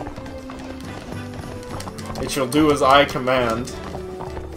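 Horse hooves clip-clop at a run in the video game Barbie Horse Adventures: Wild Horse Rescue, a steady rhythmic patter under loud talking and background music.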